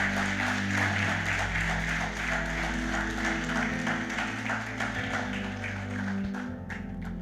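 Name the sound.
congregation applause in church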